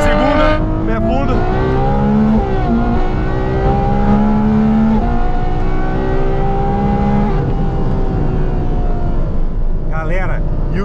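A Ferrari F12 TDF on 22-inch wheels accelerates at full throttle in second gear, its V12 engine howling loud and close with rising pitch sweeps and gear changes, while a voice talks over it.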